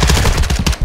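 Rapid automatic gunfire in a video game, a loud dense burst of close shots crackling in quick succession for under a second, with no talk over it.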